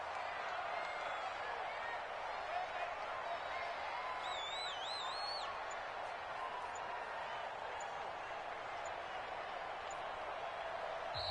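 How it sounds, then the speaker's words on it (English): Steady crowd noise from a football video game stadium rises during a big third down with the Cardinals, a continuous loud wash of cheering and murmur with a faint whistle-like tone in the middle. "The crowd getting into it as we come up on a big 3rd down."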